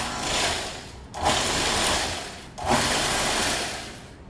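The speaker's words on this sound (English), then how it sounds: "we're going to give this a pulse about 10 times" Food processor pulsing oatmeal with cranberry pecan bar ingredients: three loud, close bursts of whirring, each lasting over a second, separated by short gaps, with no talking.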